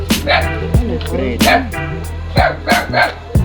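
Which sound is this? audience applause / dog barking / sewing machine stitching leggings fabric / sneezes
dog barking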